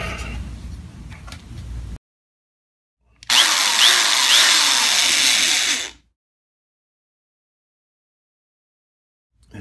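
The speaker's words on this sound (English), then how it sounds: "And I got my drill here." Electric drill boring a short, straight hole into a Fender Precision bass body, a steady whirring burst of about three seconds heard alone, preceded by quieter workshop noise and silence.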